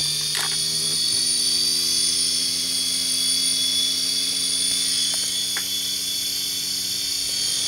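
A brushless motor on an A4941 driver board, spinning at several thousand RPM, gives a steady high-pitched electric whine with layered tones and an occasional faint click, continuous and close.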